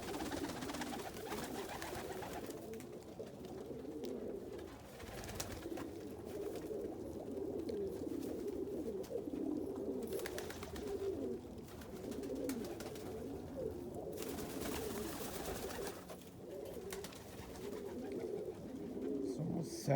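Crested saddle Homer and Indian fantail pigeons coo continuously in a loft, a dense layered murmur of soft low calls from several birds nearby, with occasional rustling.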